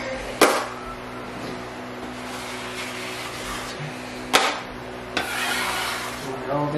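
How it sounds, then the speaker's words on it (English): A drywall knife scrapes joint compound flat along a taped corner, giving soft rasping strokes under a faint background hum, with a few sharp taps where the blade meets the wall. "Scrape all the mud out. Make sure it's nice and flat, nice and smooth."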